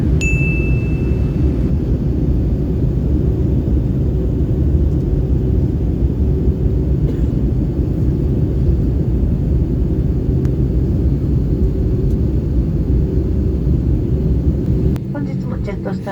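Steady, loud rumble of an airliner cabin during the descent into Chubu Centrair airport near Nagoya, Japan, with a chime ringing at the start and a brief change in the roar near the end.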